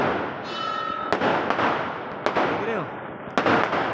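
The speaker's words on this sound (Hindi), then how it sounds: "ये जो पटाखे गिरे, गोवर्धन के पूजा हो रही है, उसमें बजाए जा रहे पटाखे" Firecrackers set off for Govardhan Puja burst in several sharp bangs spaced a second or so apart, loud and nearby, with a crackling, whistling backdrop and people talking between the blasts.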